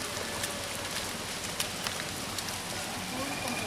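Rain falling outdoors near a beach, a steady dense hiss with scattered drops pattering close by, continuous and even throughout.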